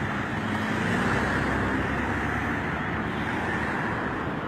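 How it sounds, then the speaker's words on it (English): Steady road traffic noise from cars moving past, a continuous broadband roar that stays fairly loud and even throughout with no voices. "I know traffic gets a little louder when the cars are moving."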